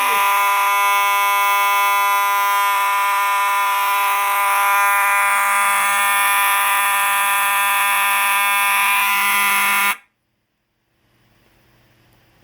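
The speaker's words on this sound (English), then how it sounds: "This horn strobe is extremely loud" A very loud fire alarm horn strobe blares steadily, close and continuous for about ten seconds, then cuts off abruptly, leaving faint room noise.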